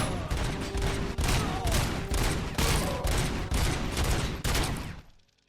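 Gunfire in RoboCop: Rogue City comes in loud, repeated bursts about every second, each a heavy rapid volley, until it stops and fades at the end.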